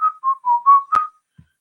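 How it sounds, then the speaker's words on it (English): A person whistles a short tune while working, a run of five sustained, sliding notes, close and clear, with a faint low thump just after. "So I am whistling while I work."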